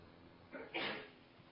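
A single sneeze in a lecture on Pali grammar, a short two-part burst that sounds somewhat distant and muffled in an otherwise quiet room.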